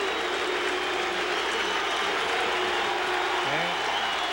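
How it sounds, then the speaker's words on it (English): Stadium crowd applauding at a 1990 Oakland Athletics home opener baseball game against the Minnesota Twins, a dense, steady wash of clapping throughout with a faint mechanical rattle underneath. "Great round of applause for the A's ace of the staff, Dave Stewart."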